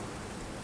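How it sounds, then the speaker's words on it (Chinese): Heavy rain pours down outside as a dense, steady hiss of drops with no break. "外面下大雨了"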